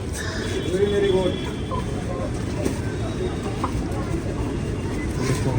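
Chickens at a poultry farm cluck and call in a busy, continuous mix, with people talking throughout over a steady background noise.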